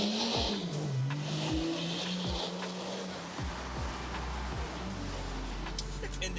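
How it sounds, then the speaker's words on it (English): A stage 2 tuned BMW 640d with an inline six diesel, resonators removed, droning loudly and steadily as it drives by, with engine pitch rising and falling through gear changes and tyre roar beneath. "Let's listen to this car through here and you'll understand why we love this flipping diesel."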